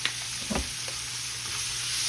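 Garlic and pork steak sizzle in a cast iron skillet, a steady broadband hiss of frying with a couple of soft stirring knocks near the start, fairly close and continuous with no talking.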